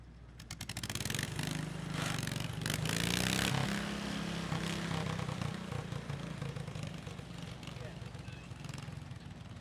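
A garden tractor roars through a 900-pound class pull at a county fair, its loud, continuous engine straining and swelling near the middle before holding steady to the end.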